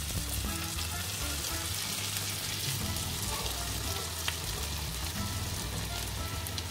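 Bulgur goes into a pan of minced chicken frying in curry, producing a dense, continuous close-up sizzle with faint stirring scrapes, steady in loudness throughout.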